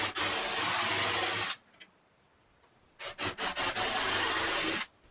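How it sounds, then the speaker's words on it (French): A wood chisel scrapes and pares by hand inside a mortise in old timber from an antique cart, in long rasping strokes broken by short pauses and a burst of quick scrapes. "Voilà la mortaise creusée à la main."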